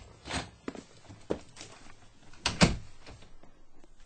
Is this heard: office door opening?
yes